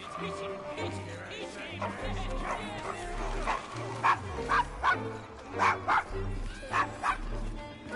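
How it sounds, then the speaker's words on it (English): A dog named Desmond barks and yips in Assassin's Creed Syndicate, a burst of sharp woofs mid-clip over low music and ambient street noise, with voices talking around it. "Is your dog quite all right?"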